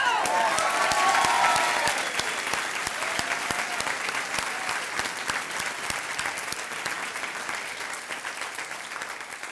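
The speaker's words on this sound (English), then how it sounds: "I want to give Wolf a big cheer." A large crowd at a university graduation ceremony bursts into sustained applause with a few cheers near the start, the clapping dense and steady and slowly tapering off.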